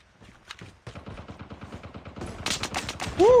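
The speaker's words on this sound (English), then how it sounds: "someone is shooting at me." Rapid automatic gunfire in Call of Duty Mobile battle royale, a steady rattling burst of shots that grows louder and denser toward the end, sounding close by.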